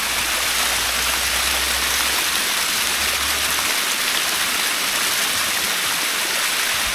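Cold spring water flowing at a mountain spring in Malico, Pangasinan, a loud, dense, continuous rushing and splashing close by, with no talk.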